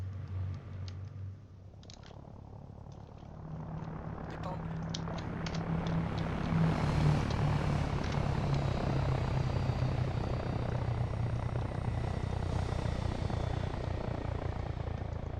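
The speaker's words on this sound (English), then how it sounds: "Let's give it a wing of Caesar planes." Caesar propeller planes flying in Arma 3, a loud, steady engine drone that swells and holds as the wing passes close, with a voice briefly heard at the start.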